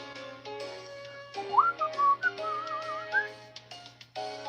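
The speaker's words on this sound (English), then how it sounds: "Sorry if I'm whistling." A person whistles a wavering, sliding tune close to the microphone in short phrases, over a steady low electrical hum.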